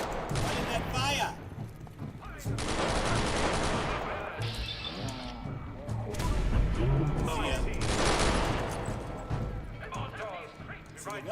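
A wind-up laser musket fires in Fallout 4 amid sustained bursts of loud combat gunfire, with a companion's weapon sounds mixed in and someone talking over much of it.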